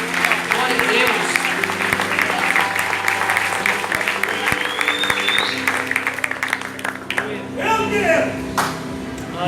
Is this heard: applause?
yes